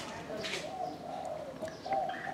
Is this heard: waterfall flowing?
no